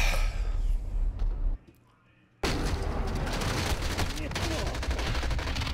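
Rapid automatic gunfire in the video game Call of Duty Modern Warfare as a full magazine is emptied into a Juggernaut, loud dense bursts that break off for under a second before resuming in a sustained stream.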